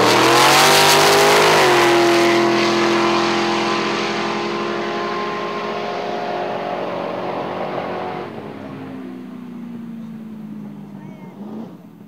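A powerful drag racing car engine roars loudly up close, its pitch dropping and holding at a rumbling idle before falling off again.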